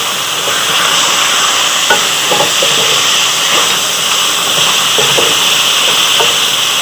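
Chicken karahi frying with green chilies in a pan, a steady loud sizzle and hiss with occasional stirring scrapes and clinks throughout, no voices.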